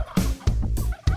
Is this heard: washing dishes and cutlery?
no